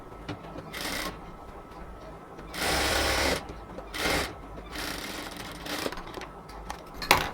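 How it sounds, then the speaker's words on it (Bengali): An electric sewing machine stitches a cotton dress in several bursts of rapid whirring, pausing briefly between runs, close up with no talking. "এবার পেটের মেজারমেন্ট থেকে কোমরের মেজারমেন্ট পর্যন্ত সেলাইটা করব।"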